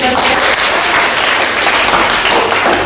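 Classroom applause from students during a micro-teaching lesson on Qur'an and Hadith, a loud, dense burst of clapping filling the whole moment without pause.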